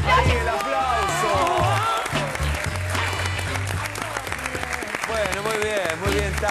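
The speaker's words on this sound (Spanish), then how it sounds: "Ahí el aplauso." Studio audience applauding during a live on-air broadcast, with steady dense clapping throughout and voices and tonal sounds running underneath.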